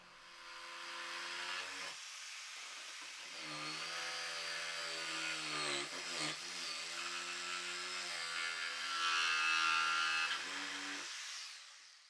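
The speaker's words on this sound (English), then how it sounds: "use my ancient Black & Decker jigsaw to help make the cuts" An old Black & Decker jigsaw cutting wood for a router table fence, buzzing steadily with a sustained whine that shifts pitch as it bites, running continuously for over ten seconds at moderate level.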